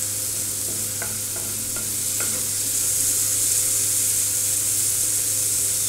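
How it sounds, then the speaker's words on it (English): Egg frying on a tawa over medium heat for a dhaba-style scrambled egg, giving a steady, even sizzle with a few soft taps early on and a low hum underneath, with no talking. "We are going to fry on medium heat."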